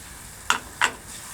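Two quick scraping stirs over a faint sizzle as tomato puree goes into a simmering chicken tikka masala curry, short and close with no talk.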